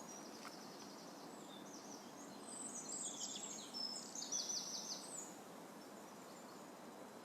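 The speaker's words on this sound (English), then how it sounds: "hopefully you can hear the birds now." Faint birdsong on a windy country walk, with soft chirps and twittering calls rising over a steady breezy background hiss, mostly in the middle of the stretch.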